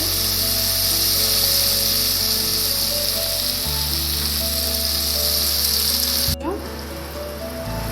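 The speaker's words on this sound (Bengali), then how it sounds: "তারপরে আমাদের এটাকে ঢাকা লাগিয়ে টমেটোটাকে সেদ্ধ করার জন্য কিছুক্ষণ ছেড়ে দিতে হবে।" Tomatoes for tomato rice cook in a covered pan, giving a loud, steady sizzle and bubbling hiss with a low hum beneath, broken near the end by a sharp clank and a sudden drop in the frying noise.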